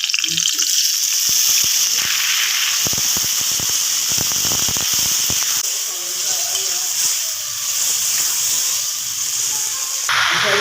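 Loud, steady sizzling of food frying in a pan, with a burst of crackling and stirring as peas are tipped in; a voice speaks intermittently.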